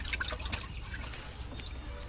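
Water is stirred and mixed, giving a faint, continuous sloshing and trickling close at hand with small splashes.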